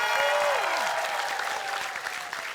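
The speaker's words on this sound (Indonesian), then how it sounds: "Tepuk tangan dulu untuk curi-curi pandang." A studio audience at an Indonesian TV comedy show bursts into loud, sustained applause, dense clapping from a crowd, with a brief sliding tone near the start and some cheering mixed in.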